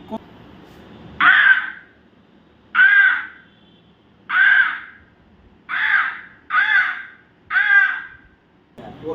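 Someone mimics a crow with six loud, harsh caws spaced about a second apart, clear against a quiet background.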